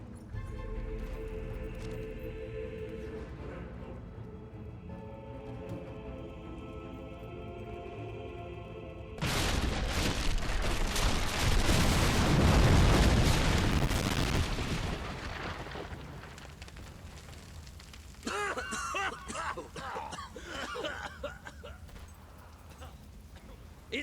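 Fable 3 game explosions: a heavy rumbling blast swells and holds for several seconds after a quieter music bed, then fades into crackling debris and noisy action with speech mixed in.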